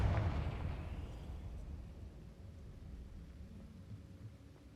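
A Confringo fire spell explodes in Hogwarts Legacy with a deep booming impact that fades into a low, steady rumbling roar, fairly quiet, with no voices.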